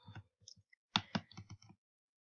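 Several soft computer mouse clicks at close range, heard as short dry ticks in small clusters, with silence between and no talking.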